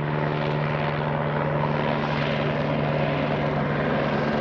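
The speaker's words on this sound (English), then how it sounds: "Gotta get the official helicopter shot." A loud, steady helicopter drone over Piestewa Peak, Arizona, with a constant rotor hum fills the whole clip, close and unbroken.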